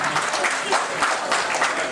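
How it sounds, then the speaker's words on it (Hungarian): Lively applause from a crowd at a village-day cooking contest award ceremony in Táplánszentkereszt, Hungary, steady clapping at moderate distance with uneven bursts throughout. "Akkor még egy nagy tapsot a polgárőröknek."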